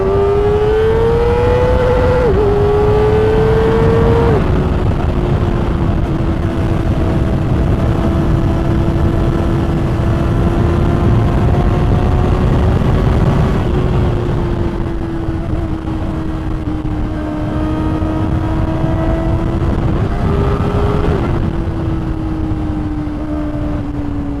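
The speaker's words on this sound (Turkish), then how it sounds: "olduğu gibi egzoz sesi" A Kawasaki ZX-4RR with an aftermarket Akrapovic exhaust drones loudly and steadily, its pitch rising and falling with several gear shifts, up close and continuous with no talk.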